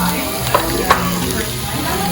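Steady hot sizzling of beef fajitas on a pan, close and loud, with a couple of faint clicks and no talking.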